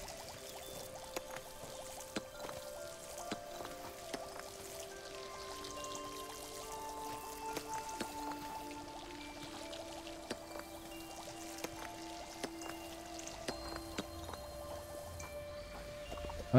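Soft, continuous spray of water with scattered drips and ticks, steady throughout over a quiet musical background, from water spraying in the game Fresh Start Cleaning Simulator.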